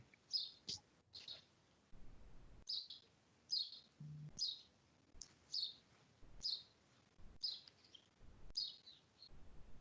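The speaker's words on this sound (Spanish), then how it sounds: "Qué bonito se escucha el pajarito." A small bird sings outdoors in a place full of hummingbirds, giving repeated short, high, thin chirps in a regular series of about a dozen, fairly clear and close.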